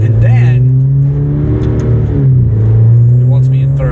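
Alfa Romeo Giulia Q4, a rear-wheel-biased all-wheel-drive sedan, accelerates on a wet, rainy road, its engine a steady, strong drone with rising harmonics lasting throughout, heard from inside the cabin with someone talking over it.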